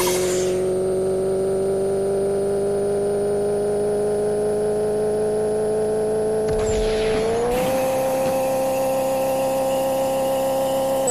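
A race car speeds along in a video game, its engine droning loud and steady with a high whine. The pitch holds at first, then steps up as it shifts and accelerates, with a brief scuffing noise underneath.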